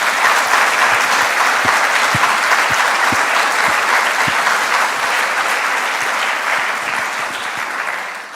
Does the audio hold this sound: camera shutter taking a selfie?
no